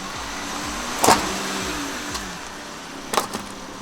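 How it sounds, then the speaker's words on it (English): A van drives over a Warrior X Pro electric scooter. A close engine hum runs throughout, broken by two sharp crunching thumps, one early and one near the end. "So of course, let's run over it with the van."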